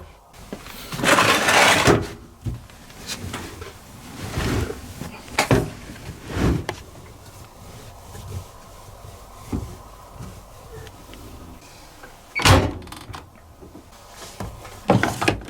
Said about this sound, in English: Simple door lock.